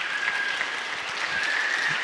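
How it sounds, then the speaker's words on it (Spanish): A church congregation at a Sunday service applauding the choir, dense continuous clapping from many hands filling the room, steady and fairly loud throughout. "vamos a aplaudir para que ellos se sientan más feliz"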